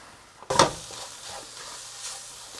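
Tomato paste hits a hot pan with a sharp sizzle and brief scraping as it is stirred in, then a soft, steady frying hiss fades out quietly.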